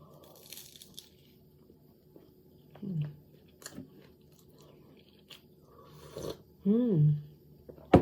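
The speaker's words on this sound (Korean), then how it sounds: "에그타르트부터 좀 먹어보겠습니다." Someone bites into and chews an egg tart up close. There are soft crunches and wet mouth sounds in short bursts, with a few murmured vocal sounds between bites.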